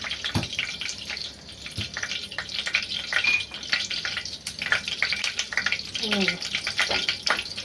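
Garlic tempering sizzles steadily in hot oil for a village wild-greens dish, a dense continuous crackle close by with occasional stirring clatter.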